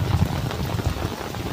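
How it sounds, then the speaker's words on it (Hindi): Monsoon rain pours down outdoors as a steady, dense hiss with low rumbling patter, continuous for the whole short stretch and without any voices. "चेक करें जी बारिश।"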